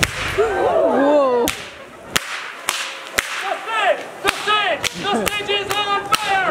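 Sharp, loud whip cracks snap out one after another in an irregular rhythm, separated by short pauses, with whistling chirps heard between them.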